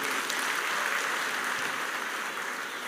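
A church congregation at a Sunday service claps together in a dense, continuous wash of applause that stays loud and even before easing slightly at the end.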